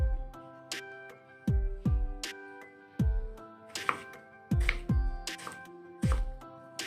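A knife chops an eggplant repeatedly on a cutting board, with sharp, evenly spaced thuds, close by, against quiet background hum.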